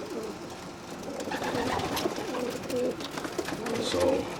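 Racing homer pigeons from a young bird team coo in a loft, several soft, low throaty calls overlapping at moderate distance, with a steady background murmur and no talking.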